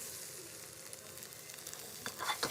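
Tomatoes frying in a pan, a steady soft sizzle throughout with a few sharper crackles and spatters near the end, no voices.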